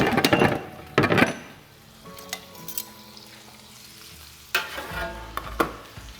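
Lamb shanks brown in a hot pan with a soft, continuous sizzle, punctuated by loud clattering bursts of pan or utensil handling at the start and again near the end.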